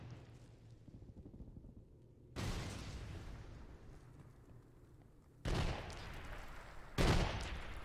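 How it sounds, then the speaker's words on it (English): Grenades exploding amid gunfire in an infantry tournament shooter match, three sudden loud blasts with sustained rumbling tails spaced a few seconds apart over a quieter bed of distant shooting, no talking. "Nades being thrown randomly"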